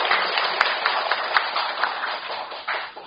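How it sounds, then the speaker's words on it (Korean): A seated audience at a 2022 press arbitration policy forum applauds to welcome the moderator, a steady wash of clapping with a few sharper individual claps standing out. "박수로 맞아주시기 바랍니다"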